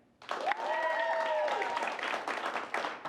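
An audience at an improv comedy show votes by applauding, with a burst of steady clapping and a voice whooping over it, starting abruptly after a moment of quiet.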